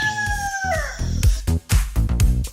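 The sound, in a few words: rooster crowing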